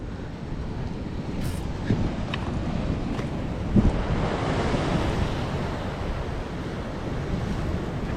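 Rough sea waves crash and roll continuously onto the Konkan shore near a fishing village, a loud, dense surf roar mixed with wind buffeting the microphone and no voices.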